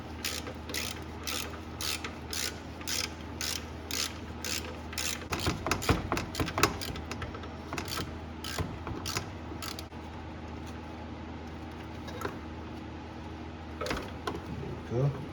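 A ratchet wrench loosening a thermostat-area bolt on an 88-97 Nissan D21 pickup, rapid clicking bursts in repeated runs, close and fairly loud, with a brief clatter of handling in the middle.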